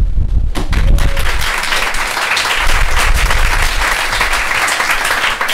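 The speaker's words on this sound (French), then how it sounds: "je me propose d'accueillir avec vous, sous un tonnerre d'applaudissements, Tony Jourdan" Dense, loud applause from an audience at a Café des Sciences evening talk greets the arriving guest speaker, sustained without pause throughout.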